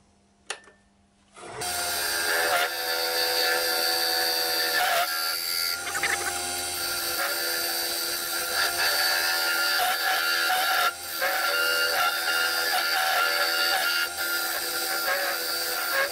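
A square scraper cuts into a scorched ash bowl spinning on a woodturning lathe, a steady close whirring scrape that starts abruptly after a quiet moment and holds loud and continuous with small dips.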